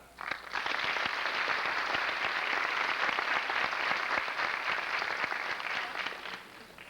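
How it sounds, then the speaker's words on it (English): Dense, even applause from an audience at a 1985 fashion designers' showcase greets an introduced guest, rising quickly, holding steady for several seconds, then starting to taper. "Can I have a round of applause for Gerald Pike?"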